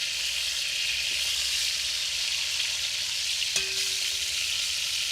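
Guinea fowl pieces browning in a pan give off a steady, close sizzle of hot fat that holds without a break, with one sharp utensil knock partway through.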